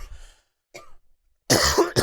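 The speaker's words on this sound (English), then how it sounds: "we've had our first cough break" A single loud, harsh cough bursts out after a quiet pause, preceded by faint murmuring sounds.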